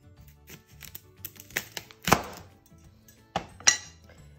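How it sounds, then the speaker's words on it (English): Knife chopping three scallions on a cutting board for a dumpling filling: a few scattered thuds and clinks lead to one louder strike near the middle and two sharp chops toward the end, close and distinct, with no talking. "So this is three scallions, and I'm just gonna go ahead and chop them."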